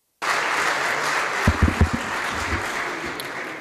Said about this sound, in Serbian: Hvala za aplauz.